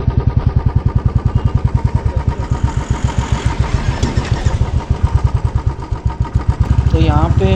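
A motorcycle engine thumps in a fast, even rhythm while riding from Leh toward Nubra over the high Khardung La pass in Ladakh. The sound is loud and close, and a voice breaks in briefly near the end.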